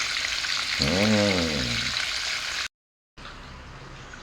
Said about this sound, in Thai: เราจะทอดไฟบางๆนะครับ